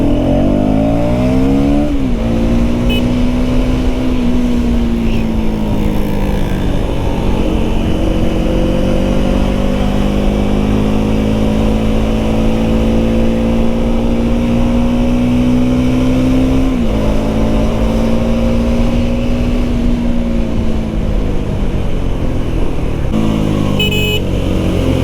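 A third-generation KTM Duke 390 motorcycle engine drones loudly and continuously, its pitch rising and dipping between revs, with a sharper rev near the start and another past the middle.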